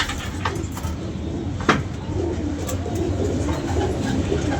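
Pigeons coo faintly at a rooftop pigeon-flying gathering in Lahore, set against steady outdoor noise with a single sharp knock.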